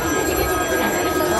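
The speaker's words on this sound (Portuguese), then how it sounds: "o telefone da redação tá tocando" An office telephone rings steadily inside a newsroom set at Universal Studios Japan, its bell running through a dense wash of theme-park crowd noise and background bustle.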